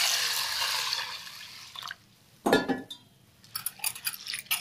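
Sabudana grains rinsed in water in a cooking pot: a soft watery wash that fades, then a sharp splash and scattered clinks and sloshes as the grains are stirred, with no talking.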